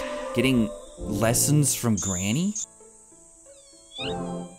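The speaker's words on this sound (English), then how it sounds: "What? That's a cat." A cat meows in an RPG Maker horror game remake set in a rainy forest, a short high mew arriving after a stretch of lively talk and standing mostly alone near the end.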